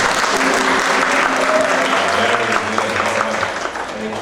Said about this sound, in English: we're asking you to applaud